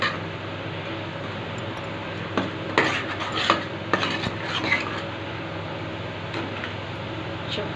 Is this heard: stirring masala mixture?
yes